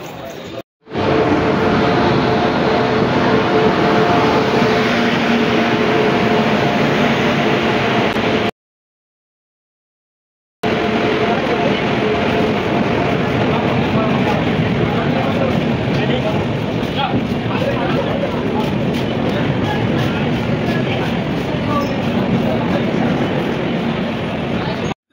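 A train running and arriving at Durgapur station, with a loud, continuous rumble of wheels and carriage noise broken by a brief silent gap before resuming.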